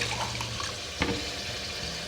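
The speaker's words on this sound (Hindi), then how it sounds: "अब मैं इसमें पानी शामिल करूंगी।" Water is poured from a large mug into a pot of frying beef qorma. The rush of liquid sits over steady sizzling, and a brief splash lands about midway.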